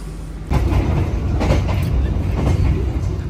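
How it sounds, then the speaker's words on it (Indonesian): A train departs Pekalongan station in Indonesia, with a low steady rumble and rolling clatter building after a brief quieter moment, heard from close by inside. "Sekitar jam 5 sore kereta berangkat dari stasiun Pekalongan"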